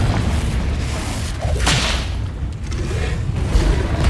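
A spell blast in a Harry Potter video game: a dense, roaring burst of explosive noise with a whooshing swell, loud and continuous, filling the moment without speech.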